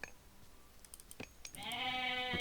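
Goats bleating in Age of Mythology, with a long drawn-out bleat rising clearly near the end after a few faint clicks and scattered game sounds.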